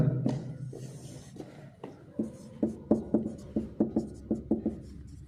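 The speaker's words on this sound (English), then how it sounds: "And let's write here." Chalk or marker strokes on a classroom board, a run of short rhythmic scratching taps that starts sparse and quickens into a steady series of close, crisp strokes.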